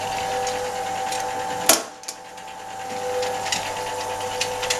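A Brandt washing machine, the Stato 46 model, turns its drum at low speed ahead of the spin cycle, giving a steady mechanical hum with a single sharp clunk and a brief dip partway through.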